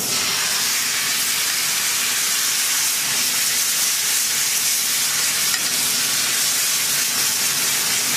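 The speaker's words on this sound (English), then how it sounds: "I want to get this demi-glace in the pan now. Our demi is going in now." Demi-glace hitting a hot pan while making coq au vin, a loud, steady, bright sizzle and hiss that runs unbroken from start to finish with no talking.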